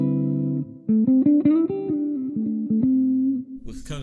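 A Godin solid-body electric guitar on its neck pickup with the tone knob rolled down plays a dark, rounded jazz line of sustained single notes and chords, close and fairly loud with no talking.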